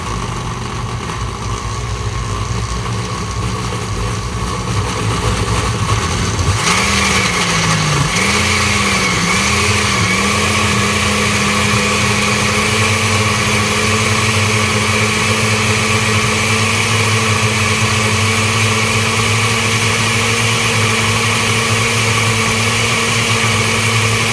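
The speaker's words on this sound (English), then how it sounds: "I always like to start it at a lower speed and work my way up." A blender runs a green smoothie, started at low speed and worked upward. A steady, loud motor whine fills the whole stretch, with a shift in pitch partway through as the speed rises, and no talking.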